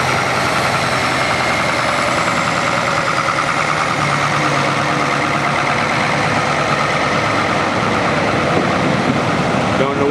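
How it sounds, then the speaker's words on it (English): A Caterpillar Power 706 diesel tractor engine runs steadily at a tractor show, with a loud, continuous low rumble and outdoor crowd noise around it. "And here's that Caterpillar Power 706."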